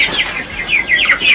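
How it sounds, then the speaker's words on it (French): Chickens cluck in short, bright bursts, several calls overlapping in quick succession, close by and fairly loud with no one talking. "me prend seulement les plus gros poulets."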